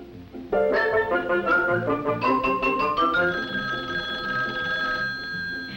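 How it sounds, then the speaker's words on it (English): An old-fashioned kitchen telephone rings with a bright, rapid bell trill in a couple of bursts, close and clear, followed by a lingering sustained tone. "a kitchen phone at hand when friends call up to chat a bit"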